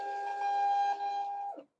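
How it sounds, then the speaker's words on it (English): A Nelko thermal label printer connected by Bluetooth prints a label, giving a short steady whirring hum of under two seconds that stops abruptly, with no one speaking. "I've connected the printer via Bluetooth, and I will start printing and see how fast it is."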